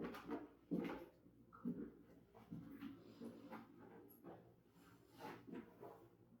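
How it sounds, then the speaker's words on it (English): A neighbouring dog barks in short, irregular bursts at a distance, fairly faint against a quiet outdoor background. "That's that dog next door."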